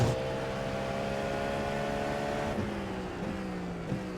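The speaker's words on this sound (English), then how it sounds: "This car just sounds so good, especially on downshifts, but really all the time" Cadillac V-Series.R prototype race car in iRacing at Road America, its engine droning steadily at high revs with harmonic tones, then dropping through several quick downshift blips near the end; loud and continuous with no talk.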